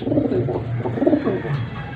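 Young pigeons in molt, kept in a lower cage, coo in low repeated throaty bursts, close and fairly loud, with soft overlapping calls and no talking.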